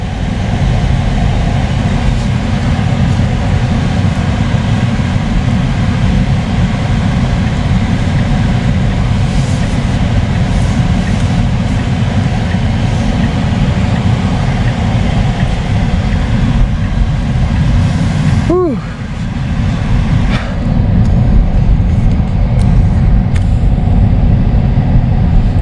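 A Tesla Model 3 drives through Shiawase Nomura Park north of Kobe, Japan, heard as a loud, steady rumble of road and cabin noise, with a brief dip and a short rising whine near the end.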